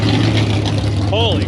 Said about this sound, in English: Last but not least, Brock's Callaway. I missed it. That is loud.